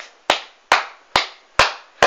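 Hands clap five times at an even, steady rhythm, each clap sharp, loud and close, with a short decaying tail and silence between the strikes.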